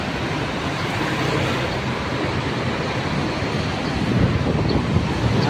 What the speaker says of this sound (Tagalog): Medyo malakas-lakas yung hangin.